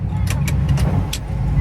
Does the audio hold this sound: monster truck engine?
yes